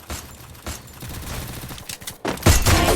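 Gunfire in the battle royale game Garena Free Fire rattles in quick bursts of shots, growing louder and denser toward the end.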